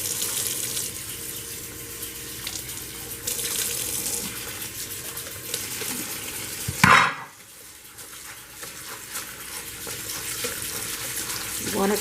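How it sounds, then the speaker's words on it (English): Rice being washed by hand in a pot of water, with steady sloshing and swirling splashes close by, a louder rush of water midway, then quieter stirring. "So this is how we wash the rice."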